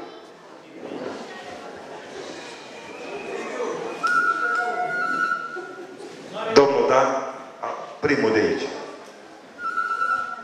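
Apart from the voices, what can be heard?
traditional shepherd's flute playing a medley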